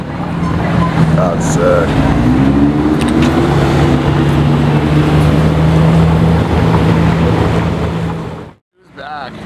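Porsche Carrera GT V10 at full throttle, a loud, sustained high engine wail with rising harmonic sweeps that cuts off abruptly near the end, a brief exclamation over it.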